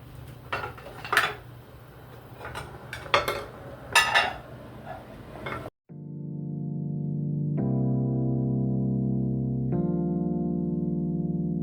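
Dishes and cutlery are set down and stacked in a kitchen with a string of uneven clinks and clatters over several seconds. Sustained electronic tones take over after the clatter stops.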